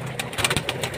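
Soft, repeated pigeon coos over a low background hum, a few short calls spaced through the moment, fairly close, among pigeon-keeping birds in Lahore.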